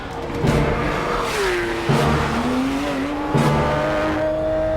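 Porsche 911 GT3 sports car lapping a race track, engine loud and close, revving up and down through gear changes with rising and falling pitch over steady road roar.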